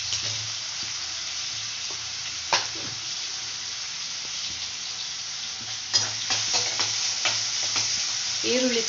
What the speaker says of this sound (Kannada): ಈರುಳ್ಳಿ ಚೆಂದಾಗಿ ಫ್ರೈ ಆಗಬೇಕು